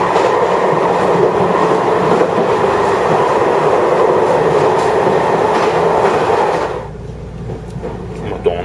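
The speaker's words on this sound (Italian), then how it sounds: "Volevo farvi notare quanto sia affollato questo treno." A crowded train runs with a loud, steady rumble and roar of wheels and carriage noise, then drops to a quieter hum near the end. There is no clear talk.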